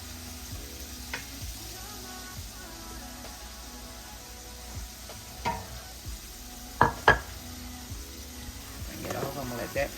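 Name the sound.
chicken frying in a pan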